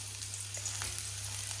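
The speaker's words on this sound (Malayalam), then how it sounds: "എണ്ണ ഒഴിച്ച് എണ്ണ ചൂടാണോ വേണ്ടതാ? നമുക്ക് ഉള്ളി ഇട്ട് കൊടുക്കാം." Onion pieces frying in hot oil in a home kitchen give a steady, quiet sizzle that runs through the short stretch with no talking.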